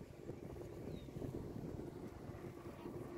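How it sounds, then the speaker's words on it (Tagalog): Strong wind buffeting the microphone in a cold, open overlook near windmills, a steady low roar that stays loud and unbroken for a few seconds. "Malakas ang hangin"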